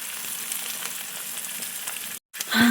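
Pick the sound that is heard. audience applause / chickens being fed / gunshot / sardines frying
sardines frying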